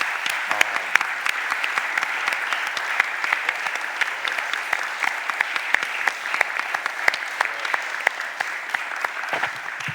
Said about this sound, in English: let's stand up and give a round of applause to these young people for doing the right thing